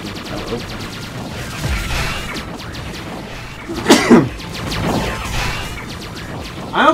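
A sneeze bursts out once in a quiet room, sharp and close, over a background of Mega Man X4 game music and sound effects, followed by a lighter second burst.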